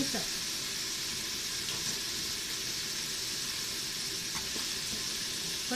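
Steady sizzling of food frying in a pan, a constant bright hiss with faint clinks from stirring throughout.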